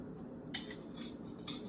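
A Dr. Praeger's veggie burger flipped in a pan, with two light metallic clinks of a utensil against the pan a second apart over a low steady sizzle, nearby and fairly quiet.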